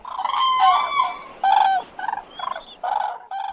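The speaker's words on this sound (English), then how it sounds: "In the evening, the crane started crying loudly out of hunger." A crane crying loudly out of hunger as a story sound effect, heard as a run of loud, honking, gobbling bird calls in short repeated bursts, close and alone.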